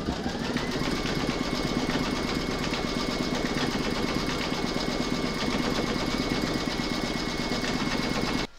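Embroidery machine stitching an outline round in lavender thread for an Easter chick bunting, a continuous rapid mechanical chatter held at an even level for the whole stretch and stopping just at the end.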